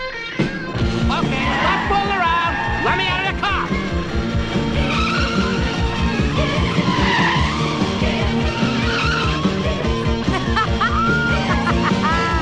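Race cars skid and squeal their tires through a race, with repeated sharp screeches over a dense, loud bed of music and engine noise.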